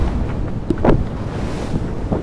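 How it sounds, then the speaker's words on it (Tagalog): Heavy wind and big ocean waves surge past on the coast of Sual, Pangasinan, with a couple of louder splashing crashes of waves close by. "Sa lakas ng hampas ng alon, ay grabe."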